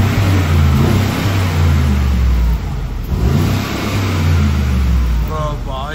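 Porsche 911 Carrera S engine revving up and down in repeated throaty surges, loud and close, with a brief dip midway, while people talk over it near the end.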